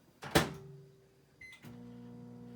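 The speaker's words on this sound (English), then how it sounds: "I'll pop this in the microwave" Microwave oven starting up, with a beep and a door or button click and then a steady close, low electrical hum that runs on alone.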